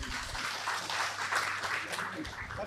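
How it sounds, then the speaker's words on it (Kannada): Applause from an audience at a Kannada awards ceremony, a steady even clapping that fills the whole stretch at moderate volume with no pause. "ಸಂಪೂರ್ಣ ತಂಡದವರಿಗೆ ಮತ್ತೊಮ್ಮೆ ಜೋರಾದ ಚಪ್ಪಾಳೆ"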